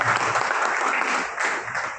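Dense audience applause at a political gathering, a steady wash of many hands clapping loudly throughout with no gaps.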